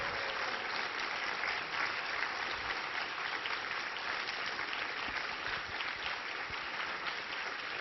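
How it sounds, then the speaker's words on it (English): A scientific conference audience claps for the event helpers in a steady, full round of applause that holds evenly at moderate volume from start to finish, with no voices. "So please give them a big round of applause."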